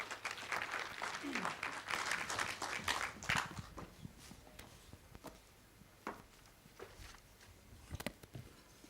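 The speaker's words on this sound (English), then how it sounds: "let's give him a round of applause as he comes" Applause at the WWF-Kenya Annual Report Launch as the board chairman walks up, fairly quiet clapping for about three seconds, then fading into scattered claps, footsteps and light room noise.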